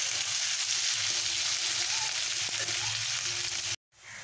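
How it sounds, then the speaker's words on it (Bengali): Onions frying in oil for a chicken masala, giving a steady close broadband sizzle with faint stirring scrapes, cutting off abruptly near the end before resuming softly. "পেঁয়াজটাকে এরকম করে ভাজতে হবে"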